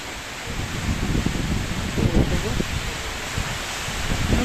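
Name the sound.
strong wind and rain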